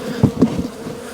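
Honeybees from a freshly opened hive in December buzz close and loud, with a few rising swells of wingbeat drone over a short stretch and no speech.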